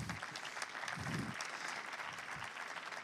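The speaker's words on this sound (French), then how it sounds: "Vous avez le droit d'applaudir." A conference audience at a talk on zero-carbon mobility in Europe claps for a few seconds, a dense, moderately loud round of applause with a voice briefly heard over it.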